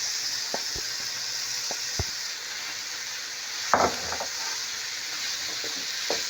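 Mashed boiled potatoes are stirred into onions frying in a pan, with a continuous soft sizzle and a handful of scraping spoon knocks, and no voices.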